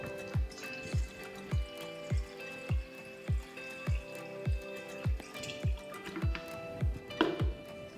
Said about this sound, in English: We've already partially filled it and we'll continue to fill.